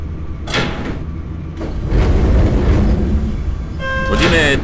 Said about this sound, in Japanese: ドアが閉まります。